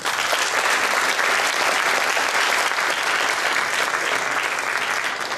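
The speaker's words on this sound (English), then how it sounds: "Give her a round of applause." Audience round of applause at a community event in Bathurst, New Brunswick, a dense, even wash of many hands clapping that stays loud and steady throughout.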